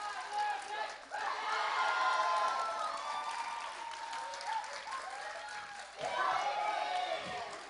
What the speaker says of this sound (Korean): 박현수 선생님을 비롯한 K-POP 댄스 2반에게 큰 박수 부탁드리겠습니다